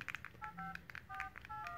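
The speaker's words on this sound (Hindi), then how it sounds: "पहले मैं कोई नंबर मिलाया देता हूँ रैंडम" A phone keypad dials a random number, a quick string of short DTMF beeps in an uneven rhythm, close and clean with no voices.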